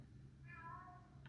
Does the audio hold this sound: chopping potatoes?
no